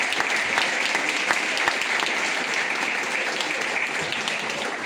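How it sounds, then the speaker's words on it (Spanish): An audience applauds at a recognition event honoring a journalist, dense steady clapping that holds at an even level throughout without pause, with no clear voices over it. "un aplauso para Pedro"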